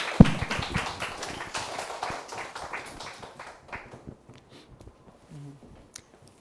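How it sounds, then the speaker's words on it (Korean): Participants in a Zoom morning meeting clap through their microphones, a patchy run of sharp individual claps that is loud at first and thins out over several seconds, with faint stray taps near the end. "예, 박수 부탁드립니다."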